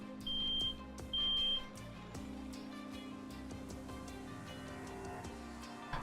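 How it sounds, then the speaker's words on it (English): A smoke alarm goes off indoors with two loud electronic beeps near the start, then lower buzzing and ticking tones continue faintly through the rest. "Fire alarm's going off."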